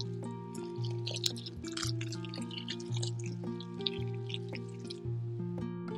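Water is poured into a dry homemade seed-starting mix in a soft trickling, dripping stream, close up, while a steady musical tone plays underneath.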